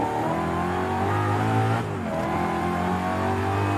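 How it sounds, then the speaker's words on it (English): A stock BMW M3 GTR in Forza Horizon 5 revs hard, its engine a loud, continuous racing roar that rises and dips slightly as the throttle shifts, with no voices over it. "here's what the M3 GTR sounds like stock"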